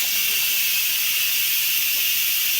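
Steam hissing out of an Instant Pot pressure release valve, a loud, continuous, close rush of sound with no break.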